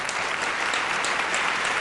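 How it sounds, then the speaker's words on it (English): An audience applauds Chief Reckah on a hip hop podcast show, a steady dense round of clapping filling the whole moment at close, even loudness. "Round of applause for Chief Reckah"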